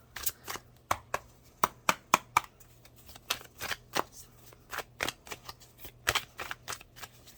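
Tarot cards are riffled and shuffled by hand, giving a close series of sharp, crisp flicks in uneven bursts. A faint low hum runs steadily underneath, and no one speaks.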